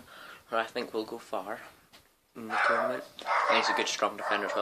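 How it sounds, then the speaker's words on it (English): A dog barks and yips several times in short bursts while someone talks over it, the barks close and fairly loud, clustered at the start and toward the end. "Sorry for my dog barking."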